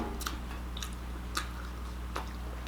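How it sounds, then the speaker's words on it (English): Crisp crunching of crunchy pickles being chewed, a few distinct bites spaced about a second apart, close to the mic over a steady low hum, no talking. "Love these crispy, crunchy pickles."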